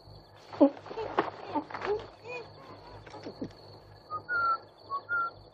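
A person whistles a few short tones, some rising, interspersed with breathy rustling and quieter sounds; the whistles are clear and moderately close.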